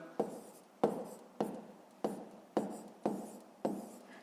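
Seven evenly spaced pen strokes scratch out numbers on paper while working a fifth-grade math exercise, each a short close tap that trails off, in otherwise quiet surroundings.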